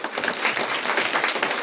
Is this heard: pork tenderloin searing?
no